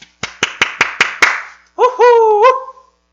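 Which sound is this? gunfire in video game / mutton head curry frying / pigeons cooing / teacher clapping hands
teacher clapping hands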